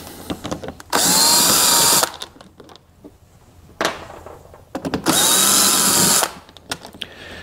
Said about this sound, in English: and I'm going to take a drill